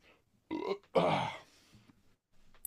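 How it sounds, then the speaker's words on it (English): A single loud, guttural burp rises and fades over about a second, followed by quieter low rumbles and a faint click near the end. "let me burp real quick"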